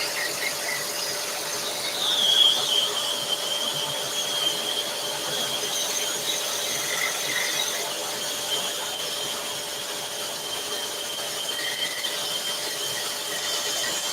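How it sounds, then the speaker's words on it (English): Bandsaw in a woodworking workshop runs with a steady high whine and squeal over a constant mechanical hum, loud and sustained with no talk. "so we can have a look at the bandsaw then"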